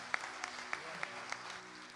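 A church congregation at a Sunday service applauds steadily, a soft dense patter of clapping under faint background tones, with a few louder individual claps standing out at regular intervals.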